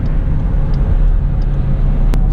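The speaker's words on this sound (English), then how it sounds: "We're at a nice steady cruise here. We're in 6th gear, which is 1-to-1, and we're about probably 2200 RPM, 61 miles an hour right now." Dodge Durango towing a travel trailer, cruising steadily in 6th gear around 2200 RPM at about 61 mph on a windy day, gives a constant low engine and road drone with a brief sharp tick near the end.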